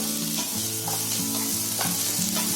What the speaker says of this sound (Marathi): आता पॅन मध्ये बघा मी थोडंसं तेल टाकलंय आणि हा सर्व मसाला आहे ना त्याच्यामध्ये भाजून घेते